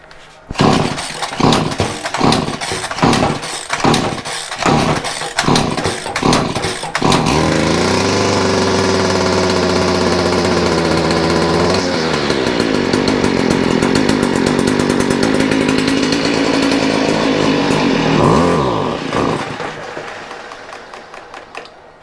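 A Stihl weed eater engine is pull-started with a run of repeated cord tugs, then catches and runs at a loud steady buzz, revving and then dying away.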